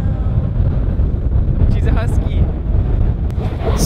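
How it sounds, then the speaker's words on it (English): Strong wind on an Iceland glacier buffets the microphone in a steady, loud roar throughout, with faint voices underneath. "Super windy"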